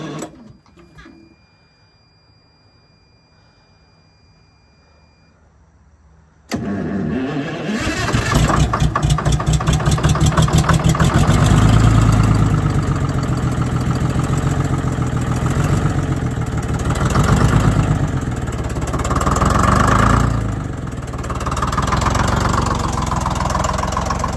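A Detroit Diesel inline 6-71 cold-starts after a quiet pause, catching abruptly and settling into a loud, rough, clattering idle that swells slightly in revs, heard close up.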